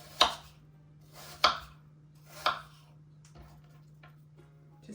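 Knife cutting apples into thin slices for a Dutch apple pie, three crisp, evenly spaced chops close by with a couple of fainter taps after, alone against a low steady hum.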